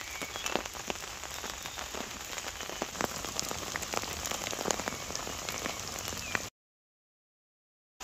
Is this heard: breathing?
no